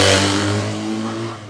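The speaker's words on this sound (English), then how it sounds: "Twin cylinder 175, very unique exhaust." A twin-cylinder Honda SL175 enduro motorcycle engine revs up loud and close, then settles into a steady idle with a low throbbing exhaust note.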